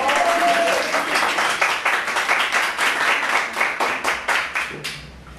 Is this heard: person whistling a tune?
no